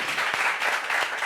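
Brief, steady applause, moderately loud and close, lasting only a moment with no voices over it.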